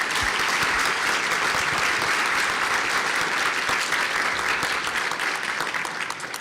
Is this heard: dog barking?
no